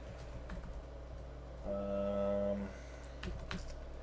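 Computer keyboard typing of a user ID and password on a Windows 7 machine, faint scattered key taps with a short tonal hum in the middle, set against steady background hiss.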